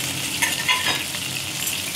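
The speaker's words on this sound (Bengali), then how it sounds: "আমার তেল এদিকে গরম হয়ে গেছে, আমি আলুটা এদিকে ভেজে নেব।" Potatoes frying in a pan of hot oil in a home kitchen, a steady close sizzle with crackling spatter that swells briefly and runs on without talk.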